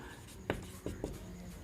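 Chalk or marker strokes on a board during a Class 10 arithmetic progression maths lesson, three short scratchy marks close by over a quiet room with faint hum.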